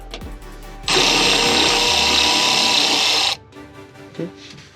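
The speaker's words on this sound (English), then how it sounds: "I've got a longer extension, a longer socket for the electric ratchet" Electric ratchet with a long extension and socket running in one steady, loud whine of about two and a half seconds while removing car bumper bolts on a Honda S2000, with quiet clanks before and after.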